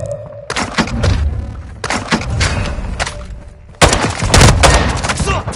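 Rapid bursts of gunfire and booming shots in the video game Warzone 2.0, loud and close, in dense volleys with brief gaps and a sharp restart near the end.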